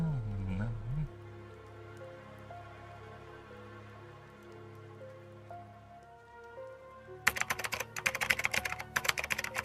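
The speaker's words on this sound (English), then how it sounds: "No, that's typing, that's keyboard" Computer keyboard typing, a rapid burst of close, clicky keystrokes in the final couple of seconds after a stretch of soft background music.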